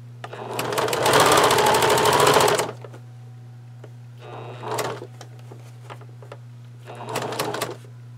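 Sewing machine stitching through one half of a fabric bag, running in one long rapid mechanical burst and then two shorter runs, close and loud over a steady electrical hum.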